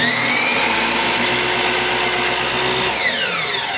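A power saw cutting a piece for a safety glass box, a loud, steady whining drone that holds for a few seconds before its pitch shifts near the end, with no voices.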